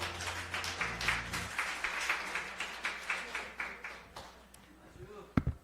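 A church congregation at a Sunday worship service claps together in an even, rhythmic beat of about a dozen claps, then the clapping fades and a few scattered sounds follow.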